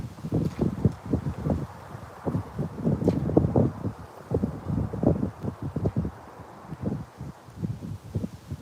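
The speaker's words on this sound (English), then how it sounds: "it's pretty windy here today" Wind gusts buffet an outdoor microphone with low, uneven rumbling thumps that rise and fall throughout, fairly loud and close, with no speech heard.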